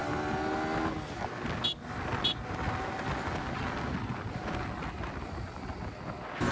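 Steady rushing wind and engine rumble from a bike ridden fast along a mountain road in Jammu and Kashmir near Sanasar and Patnitop, continuous and close, with a couple of brief high chirps partway through.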